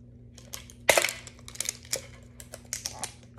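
Scissors snip the plastic wrap on a Sinnoh Stars Pokémon card tin, giving a sharp close cut followed by several light clicks and crinkles of the wrapping.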